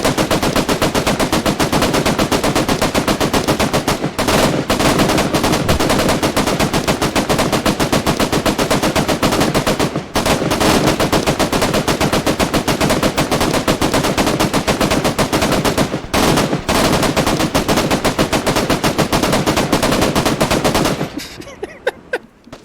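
Sustained automatic gunfire in a West German convoy campaign video game, a loud continuous rattle with a few brief pauses before it stops near the end.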